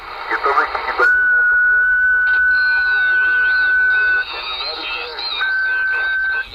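A steady carrier whistle rides over a shortwave radio transmission during a long-distance Mexico DX contact, loud and continuous with a brief dropout, while a voice speaks over the channel.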